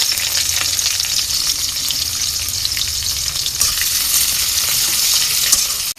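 Chopped onions, bay leaves, cardamom, cloves and cinnamon frying in mustard oil in a wok, a loud continuous sizzle with occasional stirring scrapes and crackles.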